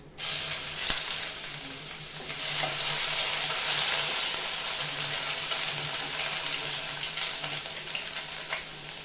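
Bay leaf, whole garam masala, cumin and crushed ginger-garlic fry in hot oil for chole, giving a loud, close, continuous sizzle that crackles and swells slightly throughout, with no talking.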